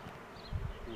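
Bees buzz briefly around a newly set-up beehive, with a faint close hum and a short louder swell partway through.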